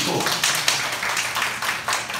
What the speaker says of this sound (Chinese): 在里面可以给自己鼓掌